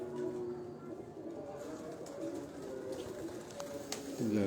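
Low, soft cooing from pigeons, including female pigeons, rolls on steadily under a noisy outdoor background, with a louder burst of cooing near the end.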